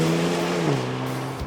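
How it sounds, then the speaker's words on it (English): Hyundai Kona N engine in its most aggressive mode, a loud sustained rev that drops in pitch mid-way as if shifting, then trails off; no distinct backfire pops stand out. "With the engine and gearbox set to their most aggressive modes, there's backfires from the exhaust"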